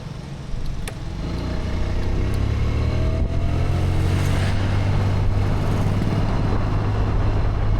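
A moped rides through a street, its small engine a steady close drone with a low hum that holds throughout, and a couple of faint clicks early on.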